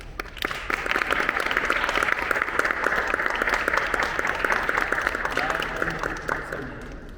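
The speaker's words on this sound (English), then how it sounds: "Clap." Audience applause at a cello master class, a steady wash of many hands that swells quickly, holds evenly for several seconds and tapers off at the end, with no talk over it.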